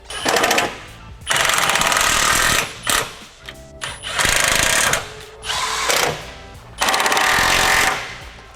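A power tool snugs up 14 mm bolts on a front subframe brace being fitted to a Nissan 350Z. It gives loud, close, rattling bursts, about five of them, separated by short pauses.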